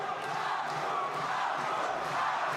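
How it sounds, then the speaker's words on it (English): A packed boxing arena crowd in Germany roars in a continuous, dense wash of cheering and shouting, steady and loud throughout. "Crowd just at a fever pitch here in Germany."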